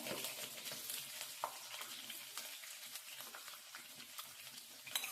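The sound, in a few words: chana dal and green chillies frying in oil in a pan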